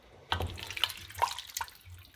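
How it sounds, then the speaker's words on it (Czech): Water or broth is poured into a pot of beef goulash thickened with onion, giving a short run of splashing and dribbling liquid sounds close by after a moment of quiet. "teďka do guláše přidám vodu nebo vývar"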